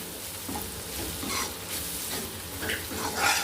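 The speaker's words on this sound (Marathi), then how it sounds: "आपल्याला हे तेलावरती पूर्ण असं भाजून घ्यायचं आहे" Gram flour (besan) roasting in oil gives a continuous close sizzle and crackle while a spoon stirs and scrapes through it, the hiss swelling slightly toward the end.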